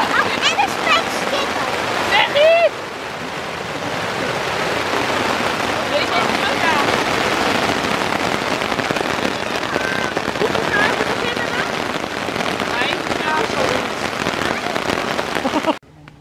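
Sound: heavy rain shower on a tent

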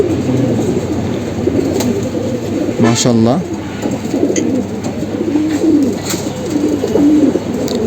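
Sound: army pigeons cooing in loft

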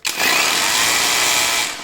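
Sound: WOSAI cordless rotary hammer running

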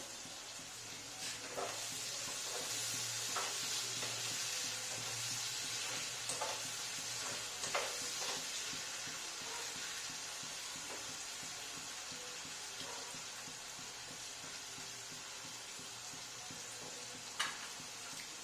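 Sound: bhetki fish pieces frying and being stirred in pan

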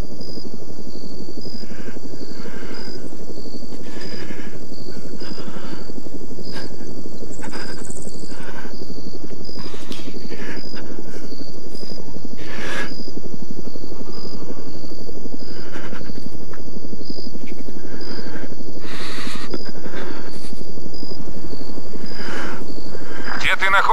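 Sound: helicopter flying

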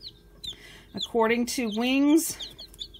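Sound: young chicken (cockerel or pullet) clucking

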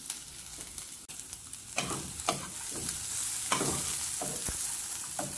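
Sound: pancetta frying in a pan as fat renders

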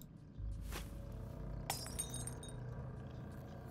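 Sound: thrown broken glass shattering in Styx: Shards of Darkness video game

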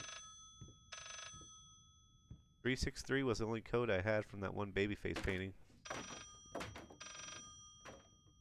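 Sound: telephone ringing in the video game Layers of Fear: Gone

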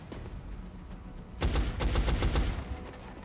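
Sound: gunfire in the video game XCOM: Enemy Unknown

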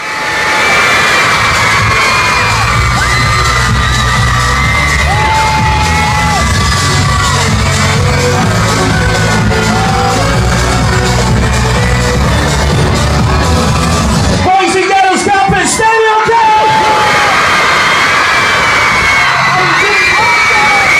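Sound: loud concert crowd cheering as the band comes on

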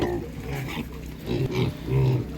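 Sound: Duroc piglets at a market

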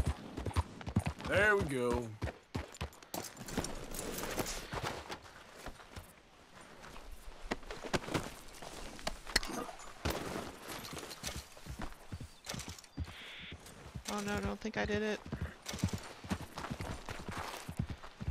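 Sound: horse hooves clip-clop in video game Red Dead Redemption 2

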